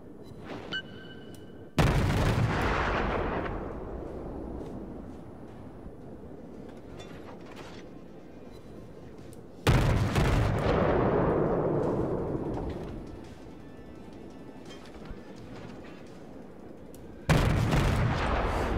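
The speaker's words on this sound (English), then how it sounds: "I really want to test out this AA fire." Anti-aircraft guns of the Yubari cruiser in World of Warships, firing in three heavy bursts of booming gunfire, each loud onset rolling on into a long rumbling barrage, with no speech.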